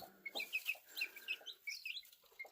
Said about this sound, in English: She's doing her little clucking thing